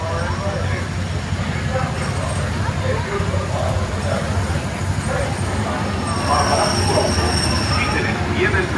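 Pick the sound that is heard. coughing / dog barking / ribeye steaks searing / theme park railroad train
theme park railroad train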